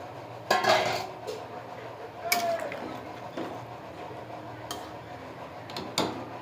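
Fried potato pieces go into a cooking pan with a chicken dish, giving a few sharp metallic clinks and scrapes of utensil against pan amid quiet background.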